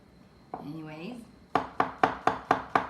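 Six sharp, evenly spaced knife chops on a cutting board, close and clear, with a voice talking just before them; mushrooms and leeks are being cut for a creamy pasta.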